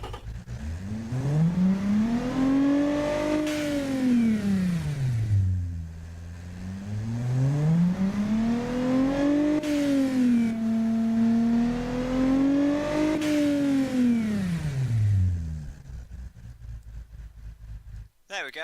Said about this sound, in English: That's kind of a muscle car engine.